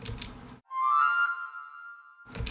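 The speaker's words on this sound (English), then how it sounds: "Oh yeah, and there's a flute sound." A single sustained flute-like note rings clearly for over a second, framed by brief clattery sounds just before and after it.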